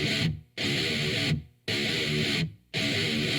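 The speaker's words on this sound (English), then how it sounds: "So here's the guitar tone before." Thick, distorted electric guitar tone rings out in three sustained bursts with brief silences between them, loud and upfront.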